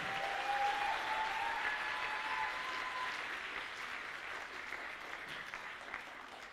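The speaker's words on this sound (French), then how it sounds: "On peut encore l'applaudir pour ce joli roleplay." Crowd at a cosplay contest at a fantasy convention applauding a roleplay performance, a fairly faint, distant wash of clapping that tapers slightly, with a thin whistle-like tone near the start.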